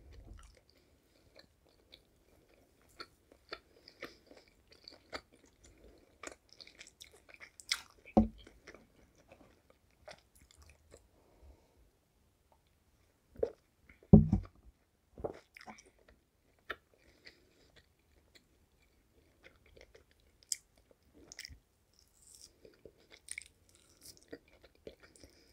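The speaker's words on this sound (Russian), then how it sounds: "Так, попробуем горбушу." Someone chews dried pink salmon as a snack with beer, giving soft, sparse crunches and squishy bites close to the mic over quiet, with occasional louder bites.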